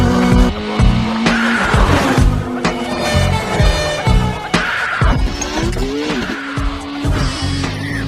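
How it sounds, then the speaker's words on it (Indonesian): A car chase in the film Transporter, with a speeding car's tires skidding and squealing over a roaring engine, loud and continuous, with repeated screeching slides and surging revs. "Polisi pun terus mengejarnya. Disinilah Frank menunjukkan keahliannya dalam mengemudi"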